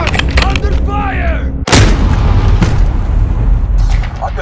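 Gunfire rattles in a Call of Duty: Modern Warfare objective-capture match, with a sharp, loud shot cracking out near the middle amid ongoing battle noise and a voice calling out early on.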